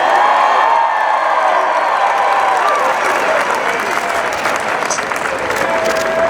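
Large crowd of Crimson Tide fans at an Alabama national championship celebration cheering and applauding steadily, a dense continuous roar of clapping and shouts with occasional whoops throughout.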